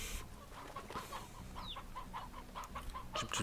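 Chickens cluck repeatedly in the video game Slime Rancher, a run of short, clipped bursts with one higher squawk, fairly close and clear over a low game background.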